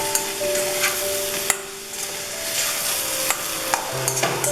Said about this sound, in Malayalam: ഇനി നമുക്കിത് നന്നായിട്ടൊന്ന് ഇളക്കി യോജിപ്പിക്കാം.